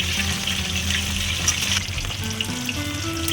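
Koi fish sizzle steadily as they fry in oil in a pan, making a loud, continuous crackling hiss with no talking.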